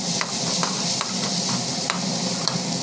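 Masala with chilli, turmeric and coriander powder sautéing in a pan: a constant close sizzle broken by regular light scrapes and taps of a spoon, no voices.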